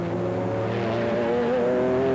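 A BMW M3 GTR race car in a 2001 European Le Mans Series race at Jarama roars steadily as it passes slower traffic on track, its loud engine note holding sustained high revs with a slight rise in pitch and no speech.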